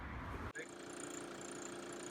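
A 2009 Volvo XC90 D5 diesel engine idles with a steady, even rumble close by, broken only by a brief dropout near the start.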